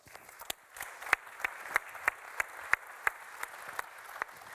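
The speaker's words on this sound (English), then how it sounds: "I'd like you to give a round of applause, just to embarrass him" A room of people at a journalism conference gives a round of applause for the director of the Centre for Investigative Journalism, steady mid-level clapping with several sharper individual claps cutting through, no voices.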